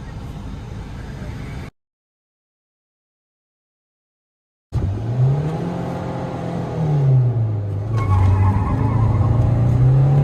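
An old diesel Maruti Swift and a new petrol Swift launch in a drag race, engines roaring close by; after a brief cut, revs climb and fall through gear changes, loud and rising.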